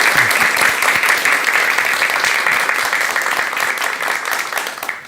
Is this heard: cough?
no